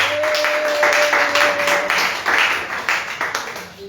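A church congregation at a worship service in Koumassi applauds with steady, dense clapping that swells and then slowly fades, with a voice briefly heard over it.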